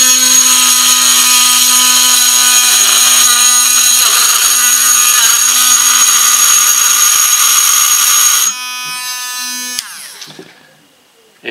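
A Drill Master rotary tool spins continuously with a close, high, steady whine, then drops in pitch and winds down toward the end as it stops.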